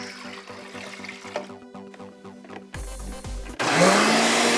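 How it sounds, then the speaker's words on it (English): Kitchen blender holding plain water, switched to high speed: a mechanical whir with rhythmic clicking first, then a sudden loud rushing roar of churning water at the end. "put your water in the blender and turn it on to a high speed"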